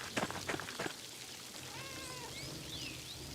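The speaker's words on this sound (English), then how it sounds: "There's a fucking cat." A cat meows in Pentiment, a few short rising and falling calls after some scattered clicks, heard faintly over a steady background wash.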